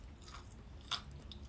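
Crunchy roasted parmesan bits, eaten with salmon at lunch, are bitten and chewed close to the mic, with faint soft crunches and one sharper bite near the middle against quiet background.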